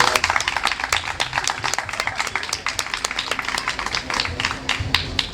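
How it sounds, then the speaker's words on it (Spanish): An audience at a food talk during a fair claps for a speaker, a dense, steady round of many hands clapping, with sharper individual claps standing out near the front, carrying on for several seconds. "un fuerte aplauso para Joaquín Pérez Martín"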